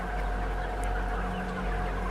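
Thousands of young chickens cluck in a crowded farm barn, a continuous chatter of overlapping calls over a steady ventilation drone, with one brief sharper call standing out.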